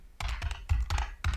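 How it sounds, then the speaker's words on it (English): Website address typed on a computer keyboard, close and clear, in a few quick bursts of clacking keystrokes separated by short pauses. "Now I type my website address"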